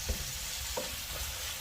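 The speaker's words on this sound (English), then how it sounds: "we're going to be stirring this just to ensure we don't burn anything" Peppers and mushrooms sautéing in a cast iron pan on a kettle grill, a steady low sizzle with a few brief scraping stirs, close and fairly quiet, no talk.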